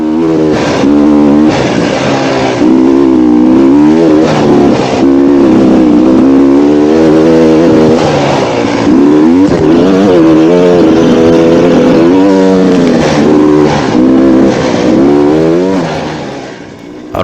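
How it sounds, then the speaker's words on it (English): A dirt bike with an ECU reflash and high-compression head rides a mountain trail at high altitude, its engine loud and close, revving and dropping in pitch through gear changes with no talk. "the bike is running really, really well"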